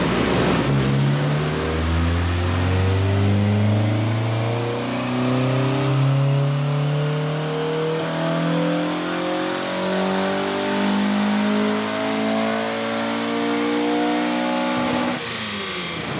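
A Honda K24A2-swapped EP3 roars through a full-throttle dyno pull, its engine note climbing steadily in pitch, loud and continuous, before cutting off sharply at the end.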